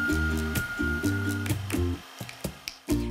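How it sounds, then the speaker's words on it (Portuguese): Electric hand mixer whips cold fresh cream with sugar, its motor whining in short bursts that stop and restart, with beaters knocking and clattering against the bowl, no talking. "enquanto você bate o seu creme de leite fresco, bem geladinho para bater bastante junto com o açúcar e ficar super aerado"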